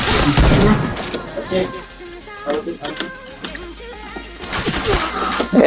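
Gunfire in the online shooter Point Blank during a clan war match, a run of sharp bursts and thuds spread across the scene at moderate loudness, with brief voices nearby.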